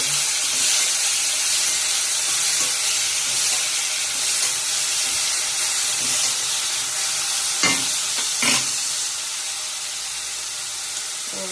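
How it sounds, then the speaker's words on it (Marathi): Onion frying in a pan: a steady, loud, close hiss of oil runs throughout, with a few scraping stirs around the middle and the sizzle easing slightly toward the end. "जरा कांदा भाजू द्यायचा."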